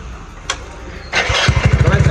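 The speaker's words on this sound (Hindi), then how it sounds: "तो गाइस अभी देख सकते हो नॉर्मल बाइक की आवाज़।" A motorcycle with its stock exhaust starts up, a brief whir giving way to a loud, steady low thudding idle close by, after a short click and a quieter stretch.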